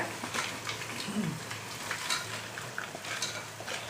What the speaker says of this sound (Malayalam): ഇതിലേക്ക് ഈ മസാലയൊക്കെ ഫ്രൈ ആയി വഴഞ്ഞ് വന്നു